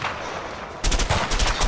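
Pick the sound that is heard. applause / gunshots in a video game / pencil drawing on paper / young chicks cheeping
gunshots in a video game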